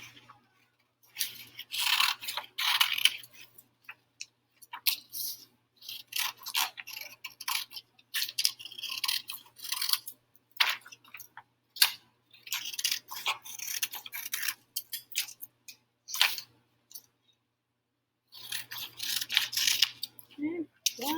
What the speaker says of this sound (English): Cut out the individual pages.